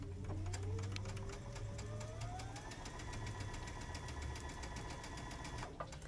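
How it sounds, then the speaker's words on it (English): Domestic sewing machine stitching quilt rows together into a large nine-patch block, a steady whirring motor with a rising pitch as it speeds up, then holding an even hum close by, running alone without talk. "So now Christine is just sewing her rows together to create a large 9 patch basically"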